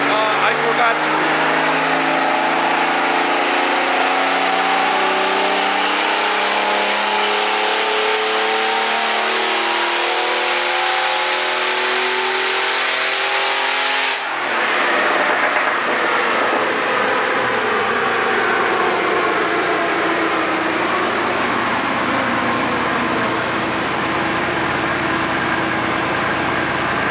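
A car engine on a Superflow dyno revs hard and loud, its pitch climbing steadily before the pedal is released midway and the engine drops off into a rough, noisy wind-down.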